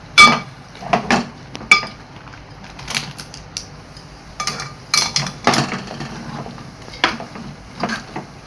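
A spoon scrapes and clinks against a metal pot while spiced lentil stew with chili powder, coriander and cumin is stirred, giving irregular clanks and knocks with quiet pauses between them.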